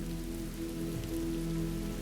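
Steady rain pattering on a surface in an immersive thunderstorm ambience, a dense even wash of drops with no thunder clap standing out, continuous and close throughout.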